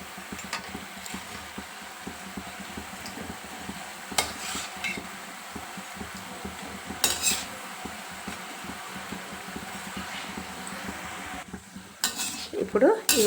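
Ragi flour murukulu fry in hot oil with a soft, continuous sizzle, broken by occasional clinks and scrapes of a utensil against the pan; no one speaks.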